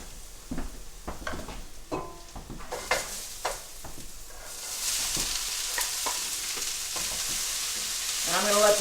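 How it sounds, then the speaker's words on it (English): Garlic and onions going into a hot skillet to sauté: scattered clinks and stirring knocks, then a steady soft sizzle that holds and swells slightly near the end. "And I'm going to let this saute now for about 5 to 7 minutes."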